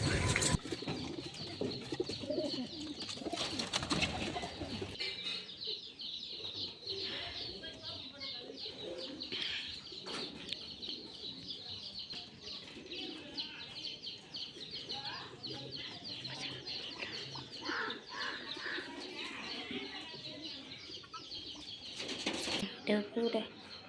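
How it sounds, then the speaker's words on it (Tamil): Rolex Jallikattu pigeons kept in a village at Malaiyadipatti near Manapparai coo softly, with some wing flapping and chirps, while a person talks nearby. "இதுதான் என் தம்பி வளர்க்குற ரோலெக்ஸ் ஜல்லிக்கட்டு புறா"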